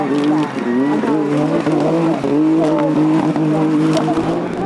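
Off-road safari rally car engines roar and whine past at high revs at the 2024 Goodwood Festival of Speed, tones rising and falling with gear changes, loud and continuous, with a commentator talking over them.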